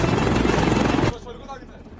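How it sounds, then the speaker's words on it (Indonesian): US military helicopters arrive in a film scene about Somali pirates hijacking an American ship, a loud dense rotor roar for about a second before cutting abruptly to a quieter, murkier scene. "2 helikopter militer AS datang untuk mengepung dan meminta mereka menyerah"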